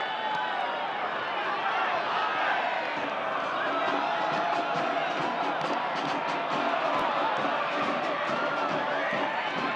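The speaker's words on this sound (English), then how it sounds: "Crowd roars to life." A stadium crowd roars through a soccer match between Phoenix Rising FC and Charleston Battery, a dense, steady wall of cheering and shouting that stays loud throughout, with a commentator's voice running over it.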